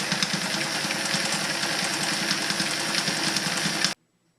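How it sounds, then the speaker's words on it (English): A Singer 319W sewing machine runs a straight stitch through leather with a fast, steady mechanical whir and rhythmic needle clatter, close and loud for about four seconds before stopping abruptly into silence. "I'm going to sew one piece of leather"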